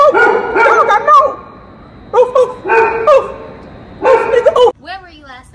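A dog urged to attack gives three loud, harsh bursts of barking close by, mixed with excited human voices.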